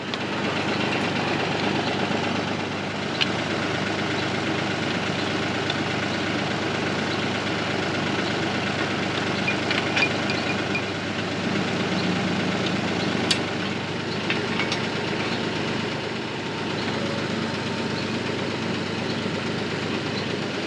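A tractor engine idles throughout with a low rumbling drone and faint knocking, continuous and fairly close, with no voices.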